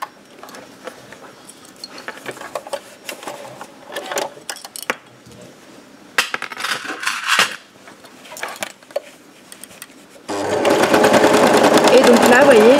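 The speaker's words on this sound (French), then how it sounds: "Moi, je vais aller le faire à la surjeteuse comme ça." A serger sewing elastic onto leggings: a steady, loud mechanical whirr at the end, preceded by quiet clicking and handling noises, with someone talking throughout.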